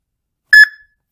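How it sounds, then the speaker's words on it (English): A laptop gives a single short, clean electronic beep confirming a QR code scan. It rings out against total silence, bright and tonal, with a brief fading tail. "Heard that beep and it's scanned."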